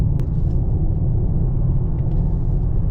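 Inside a Mercedes-AMG GT 43 with the windows up while driving, a steady low road and engine rumble fills the cabin, even and continuous without any talk.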